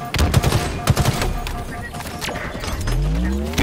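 Shock charge rifle fire in a Halo match, a burst of sharp electric shots early on amid dense battle noise, followed by a rising whine toward the end; players talk over it.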